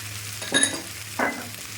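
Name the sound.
potatoes frying and being stirred with turmeric and chilli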